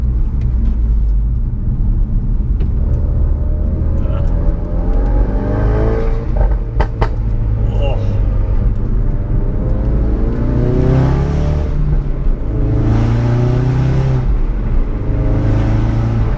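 A Mk3 Ford Focus RS engine, newly replaced, drones and climbs through the revs from inside the cabin, rising pitch sweeping up repeatedly over a constant low road rumble.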